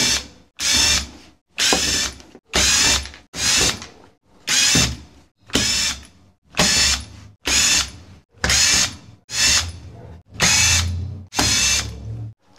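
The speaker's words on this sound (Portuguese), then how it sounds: "A gente precisa aqui de um bit ou uma chave," Twelve bursts of a 12V cordless drill driver with a Torx T10 bit spinning out case screws, each short whirring run ending sharply with a pause between, close and loud with no talking.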